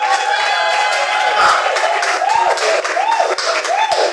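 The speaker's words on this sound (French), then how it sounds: "Les mamans acclament le Seigneur." Church mothers cheering and clapping in praise of the Lord, loud overlapping shouts and ululating voices over steady clapping, the crowd close and lively throughout.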